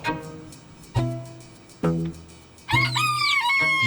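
A chicken clucks in short bursts, then lets out a loud crow near the end, close and clear with no voices.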